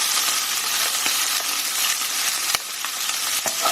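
Garlic frying in a pan after prawns, a loud continuous hissing sizzle up close with a few faint clicks and taps of utensils.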